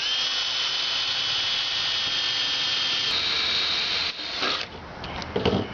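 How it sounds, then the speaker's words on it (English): A power drill whines steadily as a bit bores a hole for a pop rivet in sheet metal during an oven build, then the tone breaks up and rattles as the bit cuts through near the end. "we're going to take a drill and a drill bit, pop a hole right through there,"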